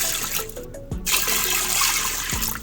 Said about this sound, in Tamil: 2 கப் தண்ணி விடலாம்.